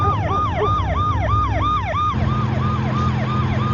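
An ambulance siren wails close and loud in a fast repeating up-and-down yelp, with a short shift in pattern midway, over a low vehicle rumble.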